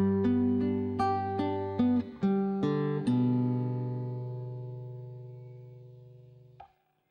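Classical guitar phrase from Jesu, Joy of Man's Desiring, measure 8: a run of plucked notes and chords played close and clear, the last chord ringing out and fading alone.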